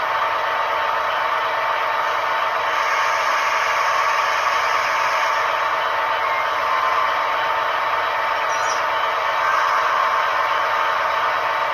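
An Athearn Genesis SD70 Norfolk Southern model locomotive with Tsunami 2 sound runs its diesel engine stuck notched up. It produces a loud, constant droning rumble that holds steady throughout, with no talk.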